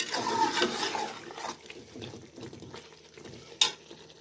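Boiled beef simmers and gets stirred in masala for Degi Yakhni Pulao, with soft sizzling, wet scraping stirs and a sharp clink of the spoon near the end.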